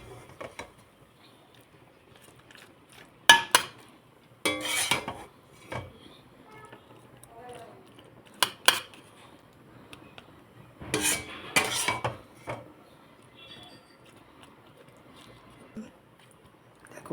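A metal spoon clinks and scrapes against a pot and plate while cooked shrimp and ash gourd curry is served, with sparse irregular taps and scoops over a quiet kitchen background.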